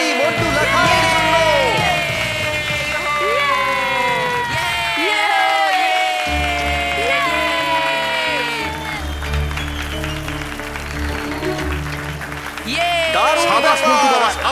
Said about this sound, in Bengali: জোরে হাততালি মন্টু লাখানির জন্য।